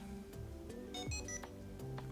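FeiyuTech Vlog Pocket 2 smartphone gimbal giving a short electronic beep as it wakes after calibration, a few bright tonal pips over low room noise with no talking.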